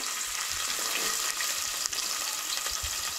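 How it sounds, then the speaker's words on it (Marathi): Onion frying in hot oil for a tempering in a Goan-style jackfruit bhaji, giving a steady, loud, continuous sizzle close to the pan throughout, with faint stirring scrapes and no talk. "भाजयेक आमी फोडणी मारून घेवया. तेका लागून हांगसर आमी तेल ऍड केलें. तेज्या उपरांत कांदो"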